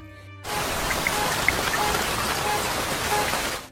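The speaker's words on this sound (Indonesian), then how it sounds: "Pada malam harinya, hujan pun turun melanda daerah tersebut." Heavy rain falls at night over a district with a leaning apartment building. After a brief quiet opening, a steady, dense hiss of rain sets in and holds evenly throughout, with no voices.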